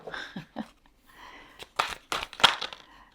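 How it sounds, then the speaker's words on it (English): Tarot cards being shuffled by hand, a series of crisp riffling and crinkling bursts, close and fairly quiet, with short pauses between the shuffles. "I'd forgotten how difficult these cards were to shuffle."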